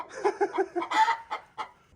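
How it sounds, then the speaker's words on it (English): Backyard chickens cluck in a quick series of short, close notes, a few sharper squawks breaking in as they are startled by a dog. "Olive, you're scaring the chickens"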